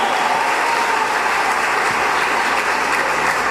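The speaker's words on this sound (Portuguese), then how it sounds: "Pode aplaudir, dá um glória a Deus." A church congregation applauding after a sermon opening, with dense, even clapping that is loud and sustained throughout and no speech on top.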